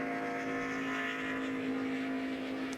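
A NASCAR Nationwide Series race car laps the oval at Gateway during qualifying, its engine a sustained, steady high-pitched drone heard from a distance without any talk.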